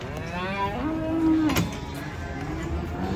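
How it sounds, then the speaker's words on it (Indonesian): A single drawn-out moo rises from cattle being unloaded off a truck, heard at moderate distance over faint background noise. "sapi lucunya guys, 3 ekor ini ya"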